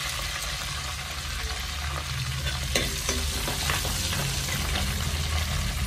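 Curry leaves hiss and crackle in hot oil with popping mustard seeds for a fish curry, a loud, steady sizzle close by with scattered sharp pops, no talk.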